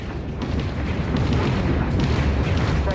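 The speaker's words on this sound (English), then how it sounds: "Target selected and commencing fire." Weapons fire and explosions from the space strategy game Homeworld: Vast Reaches form a continuous, dense rumble of booms and bursts, loud and sustained over a few seconds with no clear gaps.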